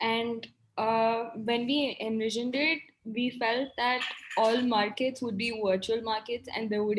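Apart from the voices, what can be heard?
No distinct noise like a dog, phone or traffic.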